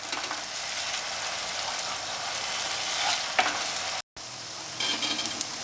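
Onions and garam masala sizzle steadily in hot oil for a Mysore mutton curry while being stirred. Scraping stir strokes break through the continuous frying hiss, and the sound stays close and moderately loud.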